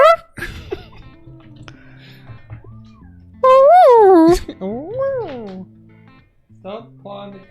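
Pet cats make odd, warbling, chirpy vocalisations rather than ordinary meows, with a loud swooping cry in the middle and softer trills after it. People talk and move about nearby.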